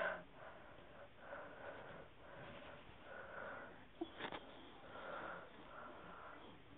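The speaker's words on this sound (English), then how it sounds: "What are you sniffing?" A pet rat sniffs in quick, soft bursts of rapid nasal breaths close by, repeated several times at a low level with short pauses between them.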